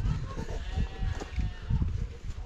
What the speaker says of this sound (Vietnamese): Mấy con dê này chắc là mới đẻ được mấy ngày đây.